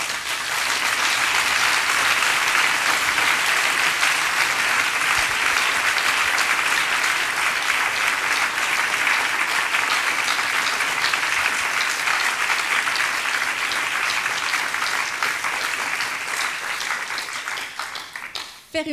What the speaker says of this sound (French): applaudissez-les très fort.